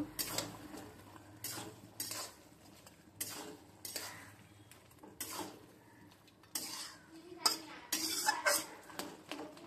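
A metal spatula stirs fried bhetki fish head in a pan of thin cumin-paste fish curry, giving quiet, repeated clinks and scrapes against the pan in uneven bursts, with a few sharper clanks toward the end.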